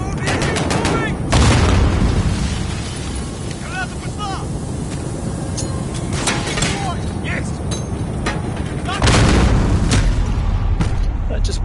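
Loud gunfire and booming explosions in a Modern Warfare campaign battle, rapid bursts of shots and heavy blasts with wind noise, voices shouting over the combat.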